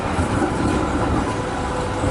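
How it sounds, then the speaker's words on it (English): A Melbourne B2 class tram on route 64 arrives, its steady rolling rumble and rail noise filling the scene at close range without a break. "64 tram arriving now. It's a B class."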